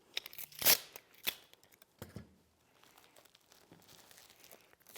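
Tissue paper crinkles and rustles as it is folded over and taped to a flower stem, with one loud crisp crunch early on, a second sharper crinkle after it, then scattered soft handling noises close by.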